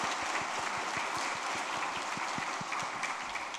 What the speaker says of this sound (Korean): 우리 장군님 다시 한번 감사의 박수 하겠습니다